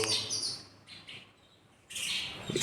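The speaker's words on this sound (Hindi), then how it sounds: "ये चिड़िया है यहाँ पे, हुड़दंग मचा रही है कब से" Birds chirp and chatter noisily outdoors, their calls overlapping in busy bursts with a short lull in the middle.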